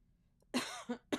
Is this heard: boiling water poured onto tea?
no